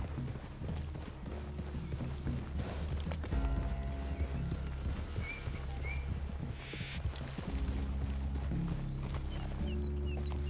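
Horses plod along in a video game, their hooves clip-clopping steadily at a walking pace beneath a continuous low musical and ambient background, with a faint whinny mixed in.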